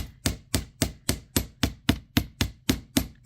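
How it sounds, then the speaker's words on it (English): Small metal wire earring components are hammered flat on a hard surface, with about eleven sharp, evenly spaced taps in a steady rhythm, close and clear, with no talking. "this is the first time I actually have hammered these down."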